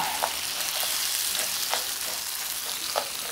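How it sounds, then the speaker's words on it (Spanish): Rice frying in a hot pan, with a steady close sizzle and a few sharp scraping bursts as it is stirred. "Y aquí es donde vamos por el arroz. Y ahí vamos. Y ahora mezclamos todo."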